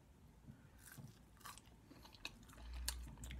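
Crunchy food chewed close to the mic, a run of soft irregular bites and crunches at low level, with no talk over them.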